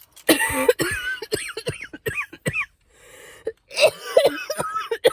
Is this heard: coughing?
yes